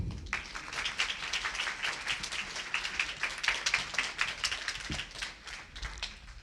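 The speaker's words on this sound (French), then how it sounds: "au piano, vous pouvez applaudir Annie." A church audience at a children's club celebration applauds the pianist with a steady, dense patter of many hands clapping nearby, holding strong throughout before easing slightly at the end.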